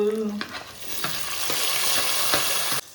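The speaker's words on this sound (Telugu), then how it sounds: "కొద్దిగంత కరివేపాకు వేసుకుందాం, వెల్లుల్లి పేస్ట్, కట్ చేసుకున్న టమోటాలు," Curry leaves, garlic paste and chopped tomatoes fry with onions in a pan for a Nellore-style fish curry. A dense, loud sizzle runs throughout, broken by light stirring taps and one sharp knock at the end.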